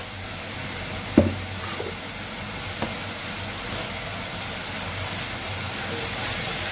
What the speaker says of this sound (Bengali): মশলাটা ভালো করে কষিয়ে নেব